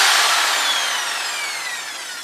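A power drill spins a mixer through ceramic glaze in a bucket, a loud continuous whirring hiss with a smooth, slowly falling tone that fades gradually over its length, with no voices.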